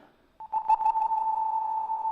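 A single sustained tone from a Hydrasynth synthesizer with reverb rings out after a brief onset, holding steady with a soft reverberant tail, quiet and clean with no other sounds.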